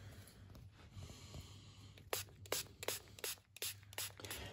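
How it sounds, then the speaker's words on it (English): A spray bottle spritzes water onto a makeup sponge for face paint, giving a run of short, sharp, close hissing bursts in an uneven rhythm after a quiet handling start. "I'm going to spritz my sponge"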